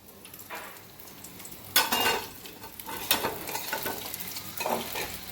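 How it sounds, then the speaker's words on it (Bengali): Fish frying in a hot pan in a home kitchen, with intermittent bursts of spitting, crackling oil and a few utensil clinks, fairly quiet and close, no talking. "মাছটা দিয়ে আমি ভাজছি।"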